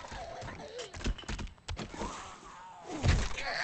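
A melee power attack landing in the survival game 7 Days to Die, heard as a heavy, close thud around the three-second mark after several lighter impacts, with gameplay noise around it.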